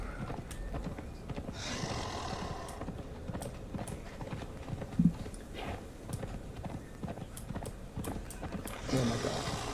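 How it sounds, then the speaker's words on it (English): Horse hooves clip-clop in the video game Conan Age of War, a quiet irregular run of hoofbeats with occasional louder thuds and snorts against faint ambient game sound. "Come here, horse."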